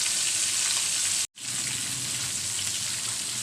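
Fish fries in hot oil for biryani with a loud, constant sizzle that cuts out for a split second, then carries on at the same strength.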